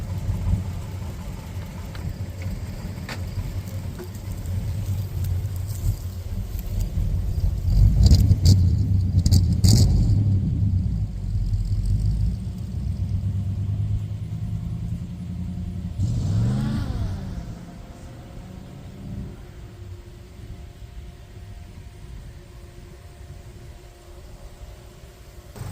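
A 1935 Ford's engine runs and revs, swelling to a louder peak midway and then settling to a quieter steady idle, heard close up with a few light jangling clicks.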